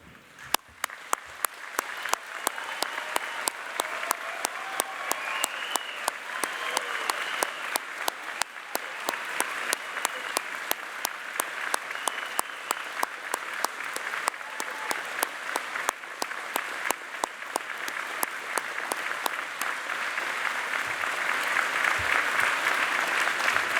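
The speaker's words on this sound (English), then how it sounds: "we will give the graduates a hearty round of applause" A large audience gives graduates of a science, medicine and health graduation ceremony a long, hearty round of applause, sustained even clapping in a big hall lasting over twenty seconds and swelling slightly toward the end.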